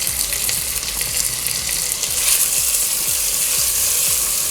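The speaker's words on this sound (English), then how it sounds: "because the onions are browning, before they become brown, let me add the garlic and ginger paste" Onions browning in oil with garlic and ginger paste added for beef pilau, a loud continuous sizzle that swells midway, with faint rhythmic scraping and ticking from stirring underneath, close by and without speech.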